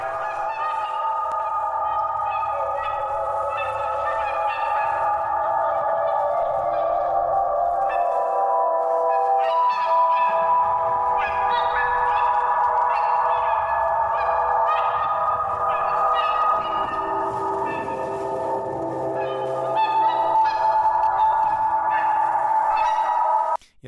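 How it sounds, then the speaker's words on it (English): Recorded swans honking repeatedly in overlapping, nasal calls, loud and close, forming a continuous chorus with a faint low rumble underneath. "that's the audio of the swans that I recorded"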